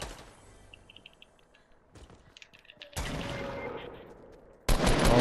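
Gunfire in Fortnite: faint, scattered distant shots and clicks, then a louder burst of sustained firing that fades, followed by another sudden loud burst at the end.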